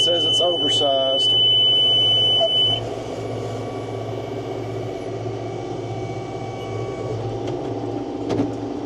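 A baler monitor alarm beeps a warning of an oversized bale, a rapid run of electronic beeps over the first few seconds above steady tractor and baler machinery hum that continues after it stops.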